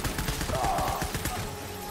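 Bursts of rapid gunfire in the video game Death Stranding, repeated shots in a steady rattling rhythm over a busy game soundscape, moderately loud.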